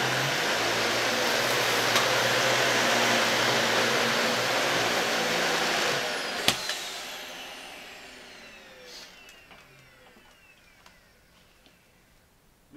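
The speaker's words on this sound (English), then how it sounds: "Man, that motor whine's kind of long on that Dyson." A Dyson vacuum cleaner runs loud and close, then shuts off with a clunk, its motor whine trailing off slowly over several seconds in a long fading spin-down.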